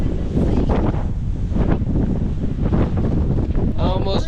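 Strong, gusting wind buffets the microphone near Sedona, a loud continuous broadband roar that swells and dips throughout with no talking.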